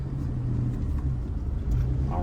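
A 1999 Daihatsu Atrai Turbo pulling away, its engine a steady low rumble that rises slightly toward the end, with talk over it.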